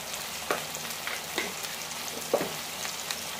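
Garlic powder and onion powder with smoked paprika being sautéed and stirred in a pan, giving a low steady sizzle with a few soft spoon scrapes and taps, fairly quiet throughout.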